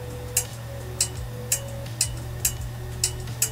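An airsoft Lancer Tactical M2 HMG's micro-switch firing system clicking at the rear, seven sharp evenly spaced clicks about half a second apart over a low steady hum, close and fairly quiet.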